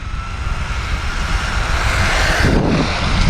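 An MJX Hyper GO 14301 RC car makes a speed pass at 70% throttle on pavement, a loud steady high-pitched motor whine that swells and shifts near the end as the car rushes past.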